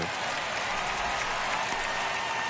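Baseball stadium crowd applauds in a video game during a tight ninth inning, a dense, steady wash of clapping and crowd noise filling the scene at fairly loud level without pauses.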